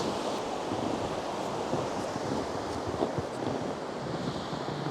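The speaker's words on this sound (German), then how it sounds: "Also es ist kein richtiger Wasserfall, aber boah, mein Gott." Rushing water from a small waterfall in Iceland, a steady broadband roar close to the microphone with some wind buffeting, continuous and unbroken throughout.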